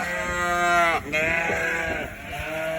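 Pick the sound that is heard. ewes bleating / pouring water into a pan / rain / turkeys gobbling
ewes bleating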